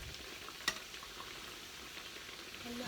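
Churros fry in oil in a frying pan with a faint, steady sizzle, broken by one sharp click near the start.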